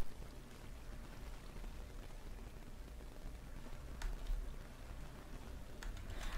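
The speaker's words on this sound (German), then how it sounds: "Guckt, hier der Wasserfall." A waterfall in a game world: a steady, even rush of falling water like heavy rain, continuous and fairly soft, with a couple of brief sharper splashes.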